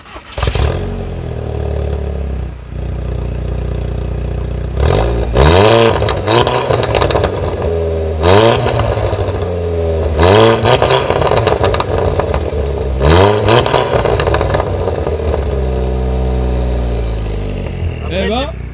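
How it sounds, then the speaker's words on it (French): A Volkswagen Golf 6 GTI Edition 35 engine revs repeatedly, rising and falling in sharp bursts over a low idle rumble, loud and close throughout. "Là ce que je veux maintenant, c'est entendre le son moteur."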